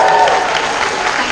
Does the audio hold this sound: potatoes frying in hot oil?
no